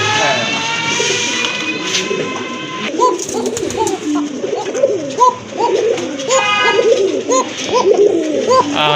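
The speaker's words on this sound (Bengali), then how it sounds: "খুবই ভালো ডাকে, দেখতেই পাচ্ছেন কবুতর কোয়ালিটি মাশাআল্লাহ" Pigeons, a pair of local running pigeons kept for sale, coo repeatedly in close, rhythmic bursts; a brief shrill squeak sounds at the start and faint background voices murmur underneath.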